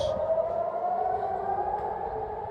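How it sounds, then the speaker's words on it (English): A civil defense air raid siren in Israel during wartime drones on a long, slowly drifting tone, steady and moderately loud, with faint background noise beneath it. "More sirens."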